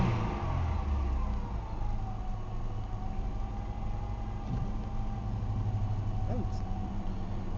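A Chevrolet car's 3.1 V6 engine idles smoothly after a fuel pressure regulator repair, a steady low hum with a faint whine, while a person talks over it.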